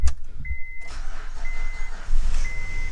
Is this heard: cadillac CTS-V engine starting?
yes